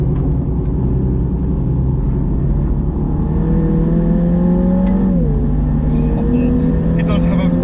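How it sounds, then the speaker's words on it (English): Mini JCW GP3, 306 bhp, revving hard on a track lap: a loud, close engine note climbing steadily, then a sharp drop at a gear change before it climbs again, with someone talking over it. "Oh, it does have a very nice tone to it"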